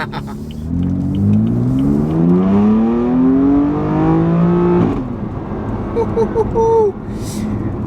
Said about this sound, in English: Drive with the open exhaust.